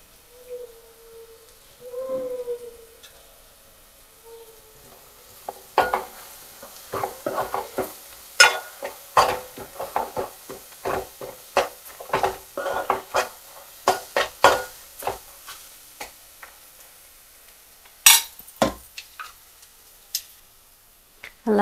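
An onion mixture cooks in a pan for egg and okra pulusu, heard as scattered sharp pops and crackles over a quiet background after a faint voice at the start.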